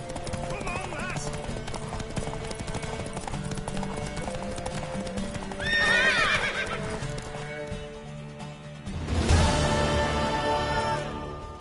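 In the video game The Witcher 3, a horse whinnies twice over steady clip-clopping hooves, with game music and some spoken dialogue mixed in.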